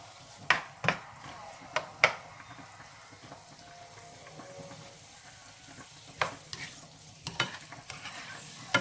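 Chopped ingredients sautéing in hot olive oil for pasta carbonara, a low background sizzle broken by sharp scrapes and clacks of a utensil stirring against the pan, coming in uneven bursts.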